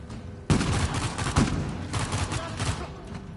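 Dense gunfire from Uncharted 4: A Thief's End, a loud fusillade with sharp bursts at the start and again a second later, then continuous rattling shots and booms with no talk.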